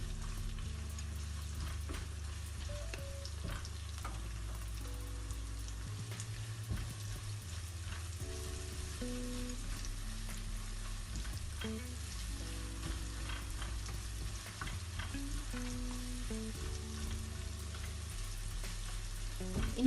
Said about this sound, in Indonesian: Ini bawang merahnya kita goreng sampai setengah matang saja.